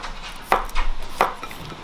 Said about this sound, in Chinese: 切上一点蒜片